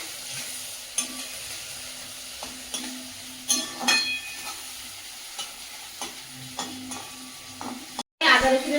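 Onion frying in a home kitchen pan with soft sizzling underneath, broken by repeated scrape-and-stir strokes and light clinks of a utensil on the pan, then a short silence and a louder burst of activity at the end.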